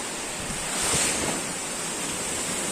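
Sea waves wash steadily onto a beach in a clear-water seaside setting, a broad continuous roar of surf with light wind across the microphone and a soft swell near the middle, no voices.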